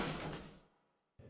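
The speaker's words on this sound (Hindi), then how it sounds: "पिंजरे का दरवाजा बंद हो जाता है" A cage door in a children's cartoon swings and shuts with one broadband whoosh that fades out over about half a second. A short silence follows, then a low thump at the end.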